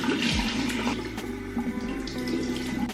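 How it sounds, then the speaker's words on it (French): A tap runs steadily into a sink while hands are washed beneath it, a close, continuous rushing stream with small splashy changes; no speech. "Je vais commencer par bien me laver les mains."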